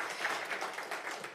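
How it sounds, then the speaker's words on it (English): Faint, steady applause from an audience at a cleantech pitch event for the finalists, a soft continuous patter of clapping heard from a distance. "Let's give a big, big, big round of applause for all of our finalists."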